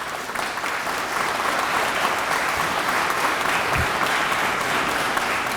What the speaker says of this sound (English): If we give them a round of applause, everyone.